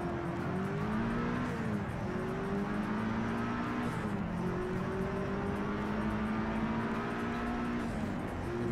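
An all-wheel-drive Mitsubishi Lancer races in Project Cars 3 on a Shanghai circuit, its engine droning loud and continuous, with the pitch rising through the gears and dropping at several shifts.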